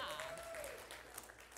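Church audience applauding and cheering during a sermon, a short burst of clapping with voices, heard at moderate distance.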